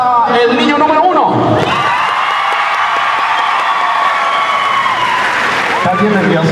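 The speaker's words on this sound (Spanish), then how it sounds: "aplauso para el niño número 1" A loud crowd at a rodeo in Mesquite cheering, whooping and clapping for a child, with a sustained roar of voices and shouts that swells, and an announcer speaking over it at the start and end.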